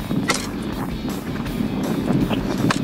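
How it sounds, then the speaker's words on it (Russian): Strong wind buffets the microphone in extreme frost while out fishing on the ice, a loud continuous roar with gusty bursts and no talking. "Ветер, конечно, капец."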